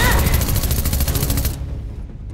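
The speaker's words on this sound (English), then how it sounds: "Gunfire!" Rapid automatic gunfire rattles loudly in a Fortnite short film, a dense burst of evenly spaced shots for about a second and a half before it cuts off into a fading tail.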